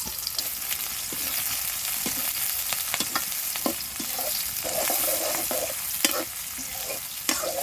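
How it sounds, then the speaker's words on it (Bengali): Onion and bay leaf frying in oil in a pan over a clay stove, a continuous crackling sizzle with spatula clicks and scrapes scattered throughout, close and loud. "আমি দিয়ে দিচ্ছি তেল, পেঁয়াজ আর তেজপাতা।"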